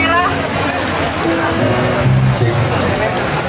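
Rain falling steadily during an outdoor street music performance, a constant hiss of drops under voices and faint tones from the performers.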